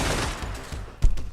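A rapid burst of gunfire in the video game Receiver sounds loud and close, followed by a sharper single shot near the end.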